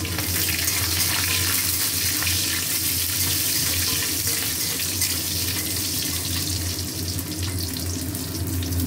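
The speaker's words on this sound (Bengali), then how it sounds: "বড়িটা ভাজা হবে।" Lentil dumplings (bori) frying in hot oil give a steady, loud, continuous sizzling hiss that holds without a break from start to finish.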